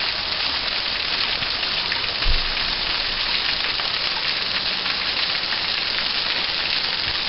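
Waterfall in a Utah canyon creek swollen by flash flood rain, a steady broadband roar of rushing, splashing water filling the whole clip at close range, with one brief low thump partway through.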